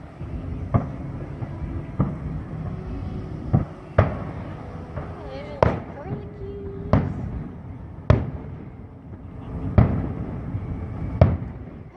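Disney's Wishes fireworks, heard from the Polynesian Village Resort, go off in a series of sharp, booming bursts spaced a second or two apart, somewhat distant, while people talk quietly between them.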